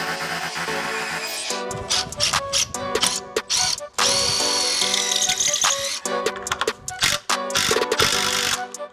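A power drill drives a concrete screw into a wall during a garden shed build, its motor whirring in loud, repeated bursts with ratcheting clicks and clunks between pulls of the trigger.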